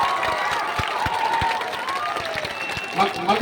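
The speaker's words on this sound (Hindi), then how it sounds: "अब बजा लो ताली, जितना जोर से बजाना है।" Crowd at a Jan Suraj political rally in Bihar clapping loudly and continuously for several seconds, with scattered cheers rising near the end.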